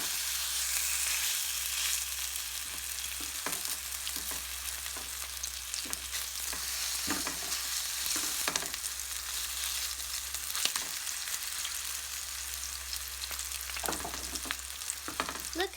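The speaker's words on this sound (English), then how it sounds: "Look at it, it's sizzling." Steady frying sizzle from beef chapli kebab in a pan, a constant crackling hiss with occasional sharper pops and stirring clicks, close and fairly quiet, no talking.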